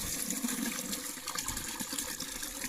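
A solar-powered water pump sends water gushing and splashing out in a continuous, fairly close, busy stream, with no speech.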